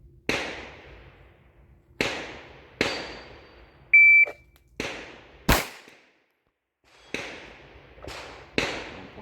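Glock 19 pistol shots during quick-draw drills, heard as about eight sharp, loud single cracks spaced a second or more apart, each with a short ringing decay, along with a brief electronic beep partway through.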